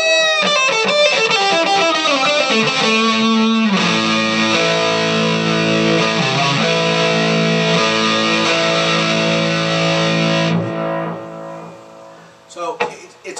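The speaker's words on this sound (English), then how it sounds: "I'll put on a little distortion." A Chinese copy of a Gibson Les Paul electric guitar played through distortion with a touch of echo: picked notes lead into thick sustained distorted chords, loud and close, ending with a few brief strums and noises.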